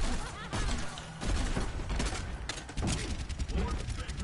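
Soldier firing his rifle in Overwatch: rapid, dense bursts of gunfire that repeat in quick volleys, loud and close, over a busy clatter of game effects.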